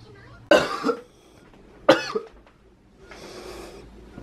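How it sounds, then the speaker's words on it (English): Person coughing in an emergency room setting: two sharp, close coughs a second apart, followed by a softer breathy exhale, with quiet background between. "That's a good cough."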